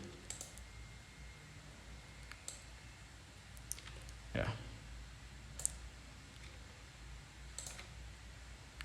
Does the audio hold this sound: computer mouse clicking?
yes